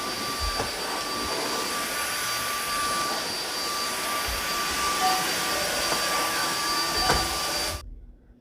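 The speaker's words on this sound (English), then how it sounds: "What do you think of your new vacuum?" A Samsung cordless vacuum cleaner running with a steady high whine and airy roar, close and loud, holding constant before cutting off abruptly near the end.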